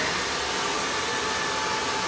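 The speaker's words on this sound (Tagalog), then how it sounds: "paharap po ang ating blower" A hair dryer blower runs steadily during a long layered haircut, giving a loud, even rushing whoosh with a faint whine and no breaks or talking.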